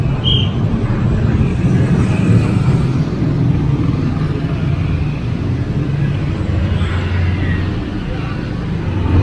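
Jammed traffic of cars and motorbikes crawling over the Tlogomas bridge, a dense, steady engine rumble close by, with someone talking over it throughout.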